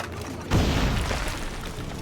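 A heavy cannon boom erupts midway, followed by a rolling rumble of battle gunfire in the naval action game Assassin's Creed Rogue, loud and close with no clear talk.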